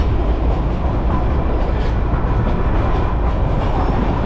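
Darjeeling Joy Train rolls along its track with a loud, continuous rumble and faint rhythmic wheel clatter, heard close by and steady throughout.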